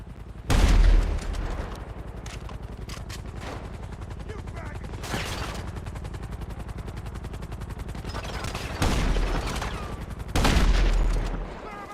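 Rapid gunfire in GTA 5 Online, a steady rattling fusillade through most of the stretch with heavier bursts near the start, middle and end, and some voices in the game mix beneath it.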